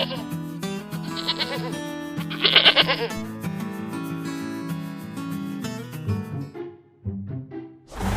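Goats bleating in a village, the cries rising and falling over a steady bed of background music, with a louder, denser cluster of bleats in the middle before the sound thins out.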